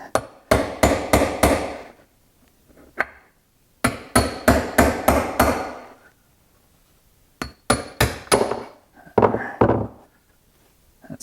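Hammer blows knocking an old bushing out of a lawn mower, in three bursts of four to five sharp metallic strikes each with short pauses between, loud and close.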